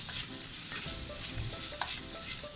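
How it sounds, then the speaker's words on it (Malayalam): Sliced onions for squid curry sautéing in a hot pan, a steady close sizzle with soft stirring scrapes and no talking. "നമുക്ക് നന്നായിട്ടൊന്ന് വഴണ്ടി വരണം സവാള"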